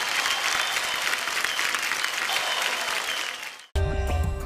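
Loud, dense applause from a live audience at a music show, sustained for several seconds before cutting abruptly into a short burst of music.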